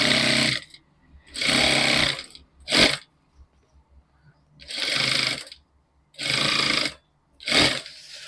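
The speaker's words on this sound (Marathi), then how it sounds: "इथे आपल्याला डबल शिलाई मारून घ्यायची" A sewing machine stitches fabric piping with a double seam, running in short loud bursts with quiet pauses between them, some runs longer and some very brief.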